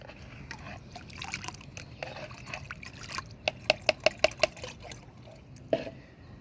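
Homemade leaf-based liquid plant fertilizer being strained, with soft trickling and splashing followed by a quick series of sharp clinks and taps, close up and without speech.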